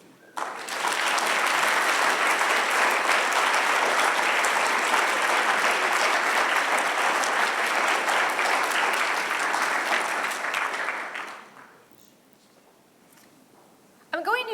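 Sustained applause from a large convocation audience welcoming new faculty swells quickly and holds loud and dense for about ten seconds before fading out, with a voice resuming at the end.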